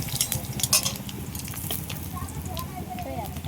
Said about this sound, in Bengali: এবার কিছু মশলা এই তেলের মধ্যে ভেজে নেবো।